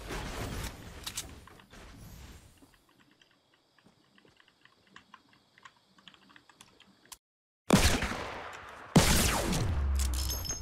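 Gunfire in Fortnite, sharp repeated shots in fast clusters, with a loud volley at the start, scattered faint cracks through a quiet middle, then loud bursts near the end.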